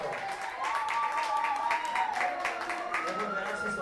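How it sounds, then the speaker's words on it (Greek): Audience applause after a karaoke song, steady clapping from a small crowd while a voice speaks over it and a sustained tone hums beneath. "Ένα χειροκρότημα στην Αντιγόνη μεγάλο."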